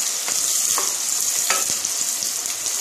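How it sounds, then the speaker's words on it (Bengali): Finely chopped onions frying lightly in a pan for chicken tehari, with a close, dense, continuous sizzle and a few soft scrapes of stirring. "অল্প করে ভাজবো, একদম লাল লাল করবো না, অল্প করে ভেজে নেব।"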